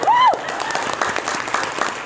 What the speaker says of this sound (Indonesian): Tepuk tangan yang ikhlas.